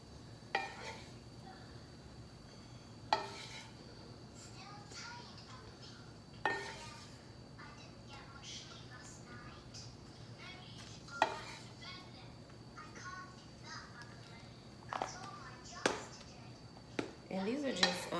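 Seasoned breakfast potatoes dropped into a casserole dish, giving scattered clinks and knocks of utensil on cookware at irregular intervals over a low steady hum, with a voice talking quietly between the impacts.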